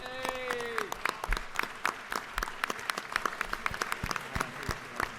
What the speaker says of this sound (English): please stand and let's give them a round of applause